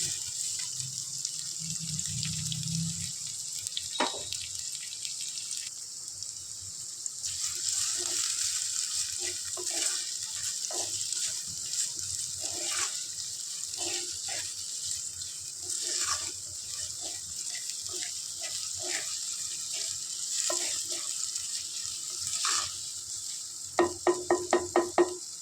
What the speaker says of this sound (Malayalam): സവോള ഇട്ട് ഞാൻ നന്നായിട്ട് ഇളക്കി കൊടുക്കുകയാണേ